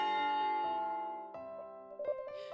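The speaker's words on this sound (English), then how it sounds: "Oh, that's a loud bell." A loud school break-time bell rings out with a sustained metallic tone that slowly decays, then strikes again twice more, near and clear with no talking.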